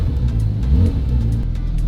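A Ferrari 458 GT3 engine rumbles loudly close by, revving in a steady, throbbing pulse against a soft limiter with a deep, continuous growl and no talking.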